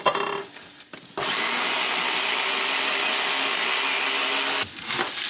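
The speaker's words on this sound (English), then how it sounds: "I'll just keep going and keep blitzing all this cauliflower until it's all done" Food processor blitzing cauliflower, a loud, steady motor whir with grinding chop that starts abruptly after a couple of short pulses and runs for several seconds before cutting off, close by with no talk.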